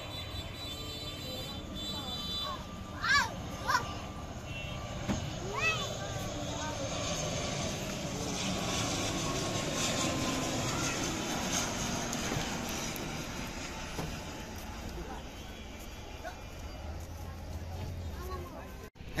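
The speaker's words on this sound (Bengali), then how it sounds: "একটি বিমান এখন এগিয়ে আসছে নামার জন্য। এটি কক্সবাজার থেকে ইউএস বাংলা এয়ারলাইন্সের এটিআর মডেলের বিমান" A US-Bangla Airlines ATR airliner from Cox's Bazar approaches to land at Dhaka, its engine drone building from distant to a broad steady roar under crowd chatter and voices.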